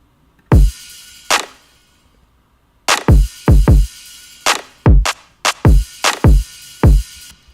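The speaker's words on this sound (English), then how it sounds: "And then on top of the kick, I put a crash cymbal." Crash cymbal layered over deep kick drums in a hip-hop beat, bright splashy hits ringing with each booming kick, mixed with clap snares in a busy repeating pattern, loud and without voices.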